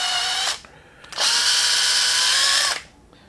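A power drill whines loudly in two bursts while drilling a 4mm hole in a model water crane, a short one and then a longer steady run, close up with no voices.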